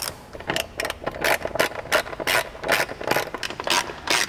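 A ratchet driving a T40 Torx bit clicks rapidly as it backs out mounting screws on a Polaris RZR XP Pro's front plastic, crisp bursts of pawl clicks in quick, uneven strokes up close.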